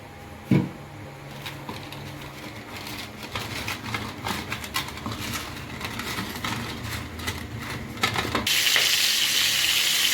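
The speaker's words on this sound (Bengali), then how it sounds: "আমি পটলগুলো ছেড়ে দিয়েছি হালকা আগে একটু ভালো করে ভেজে নেব" Pieces of pointed gourd frying in oil in a kadai, a steady sizzle with clatters of stirring, growing louder and brighter near the end.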